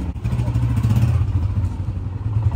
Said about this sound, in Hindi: तो अब सबसे पहले बाइक स्टार्ट करता है